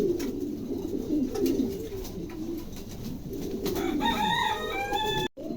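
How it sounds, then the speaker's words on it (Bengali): A pair of pigeons offered for sale coos steadily at close range in a low, warbling murmur, and a thin chirping bird call joins near the end. "দুটো কবুতরই চমৎকার সুন্দর, খুবই কোয়ালিটিফুল"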